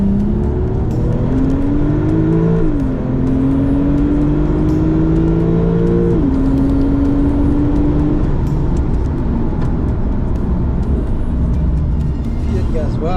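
Porsche or KTM X-Bow race car driving on a racetrack, loud engine note rising and stepping through gear changes with sustained revving, and a person talking throughout.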